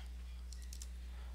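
A few quick, faint computer keyboard keystrokes tap against a steady low hum in a quiet room.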